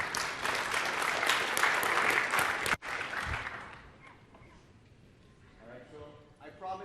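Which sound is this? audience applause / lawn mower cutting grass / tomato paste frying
audience applause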